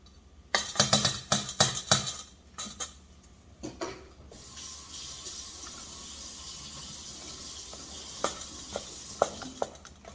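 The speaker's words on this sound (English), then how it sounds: "Now you can mix this. So here's, you're gonna use a spoon." A spoon stirs pumpkin chocolate chip cookie dough by hand in a bowl, first with a few quick clinking scrapes against the bowl, then a softer continuous mixing sound with occasional taps, close and fairly quiet.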